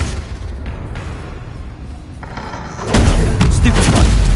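A Confringo spell explosion in the video game Hogwarts Legacy: a loud, booming blast that hits partway through and rumbles on to the end, over busy game noise.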